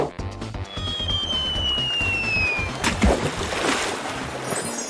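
A person falls into water with a splash in an animated Hindi story, a broadband surge about midway through, set against a steady watery background with a thin gliding whistle tone beforehand.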